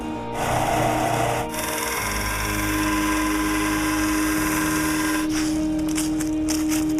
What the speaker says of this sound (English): So what I'm going to do is drill those holes